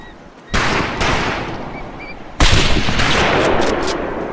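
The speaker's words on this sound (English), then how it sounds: "Oh, I love that sound of that sniper rifle." Sniper rifle fire in the Pacific war shooter Medal of Honor Pacific Assault: two loud, close reports about two seconds apart. Each blast leaves a long, rumbling echo that fills the space between them.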